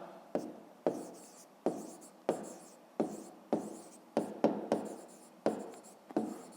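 A pen scratches out numbers during a fifth-grade math exercise, faint and close, in a steady series of short strokes and taps with no voice over them.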